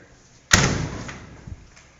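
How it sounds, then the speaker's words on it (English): A door on a 1936 Ford Fordor sedan shuts with one loud, close, solid slam, leaving a short ringing decay and a faint later thump. "So, closing the doors here."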